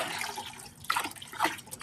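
Water poured from a container onto garden plants, including vegetable plants such as brinjal, in the morning: a steady splashing wash with two stronger gushes near the end, fairly close, with no voices.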